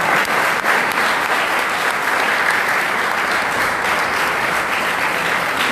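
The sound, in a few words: students applauding at a poetry gathering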